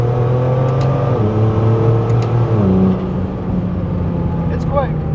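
A turbocharged BMW E36 with a swapped ZF 8HP automatic pulls hard, its engine drone climbing and then dropping at each quick upshift, loud and close from inside the car while people talk over it.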